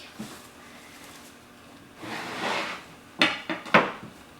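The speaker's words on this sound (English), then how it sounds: "put it on top of the pan and attempt to flip it" A plate set over a pineapple coconut cake pan is turned upside down, with a soft rustle followed by several sharp clattering knocks of metal pan against plate, fairly close and with no talking.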